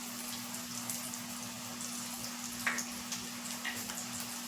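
Potato cheese balls frying in hot oil, a continuous soft bubbling sizzle with a steady low hum beneath and a couple of brief sharper pops, close and moderate in level.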